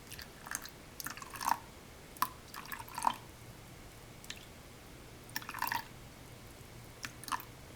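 Water is added in small amounts to a day-five sourdough starter of whole wheat flour, producing faint, scattered drips and soft splashes in short irregular bursts against a quiet background.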